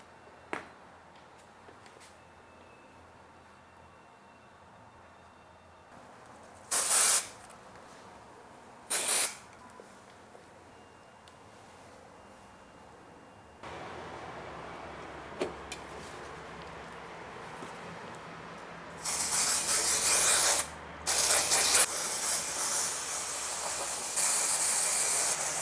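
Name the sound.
spraying spray adhesive onto foam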